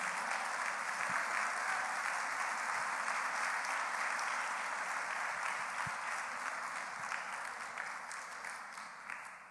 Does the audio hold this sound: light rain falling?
no